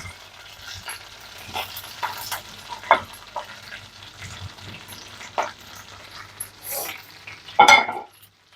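Okra stir-fried in a pan crackles and sizzles up close, broken by irregular scraping stirs and clanks of the utensil, with a dog barking faintly in the background.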